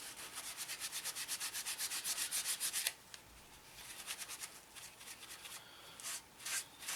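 Decals are scrubbed off a 1/32 Eduard Messerschmitt Bf 109E-3 model kit in quick, rhythmic back-and-forth rubbing strokes, close and fairly quiet, then slower, irregular scrubbing.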